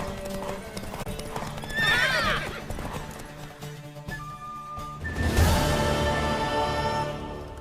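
A horse whinnies loudly over the steady clip-clop of hooves in The Witcher 3 video game, then another neigh rises later amid the trotting, with clanking noises in between.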